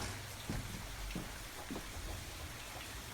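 Heavy rain pouring down outside during a storm, a dense steady hiss with a few sharper drops striking close by, fairly quiet and with no voices.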